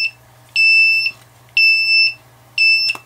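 An FPV drone, fallen to the floor after a failsafe, emits three loud, high electronic beeps at a steady one-second rhythm, each lasting about half a second, close by over a low hum.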